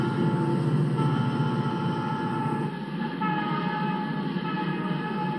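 Five Southern Pacific SD-45 locomotives haul a freight train up toward a high mountain pass, giving a steady, fairly distant diesel drone with a sustained tonal whine and no speech.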